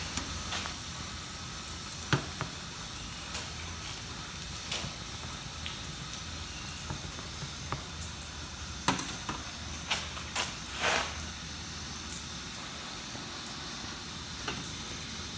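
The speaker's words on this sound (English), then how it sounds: "All right, that came to a boil." Turkish coffee in a small pot heating on a Coleman camp stove, a faint steady burner hiss with occasional soft bubbling pops and clinks as it comes to a boil.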